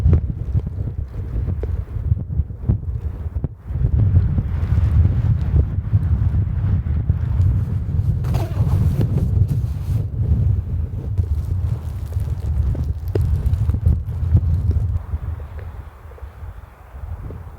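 Strong wind roars steadily during a snowstorm at a winter tent campsite, a loud, continuous low rumble with buffeting gusts on the microphone and no talking.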